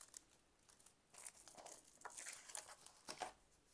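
A plastic bag being opened: quiet crinkling and tearing rustles, close and soft, in a steady run of small bursts with no talk.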